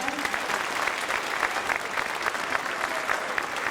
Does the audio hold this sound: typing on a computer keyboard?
no